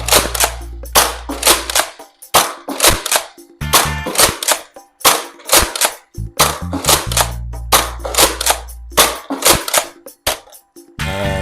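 X-Shot Insanity HorrorFire Doomsday toy foam dart blaster firing normally, a series of sharp snapping shots in small bursts with brief pauses between, close and loud, with priming clacks between shots.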